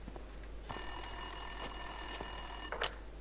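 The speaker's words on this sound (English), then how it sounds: "Winterson's phone was ringing." Telephone ringing in the Max Payne 2 video game, a steady electronic ring sustained for about two seconds and ending with a brief click, set against a quiet background hum with no talk.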